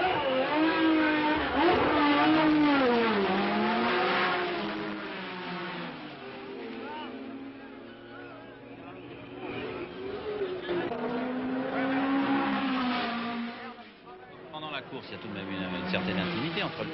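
A 1972 race car roars past the pit stand with a loud engine whine rising and fading, heard amid the bustle of the pits, with a commentator speaking over much of it.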